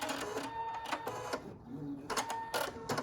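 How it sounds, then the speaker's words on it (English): A Husqvarna Viking embroidery machine trims its threads with a few short, close mechanical whirring bursts and pauses between them, with no talking. "So now I'm going to cut my threads"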